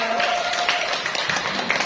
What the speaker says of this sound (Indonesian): kita beri tepuk tangan lagi dong buat kandidat-kandidat kita